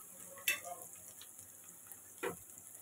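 Green chillies, onions and ginger drop into hot oil in a pan, giving two short sizzling bursts over a quiet, steady frying hiss.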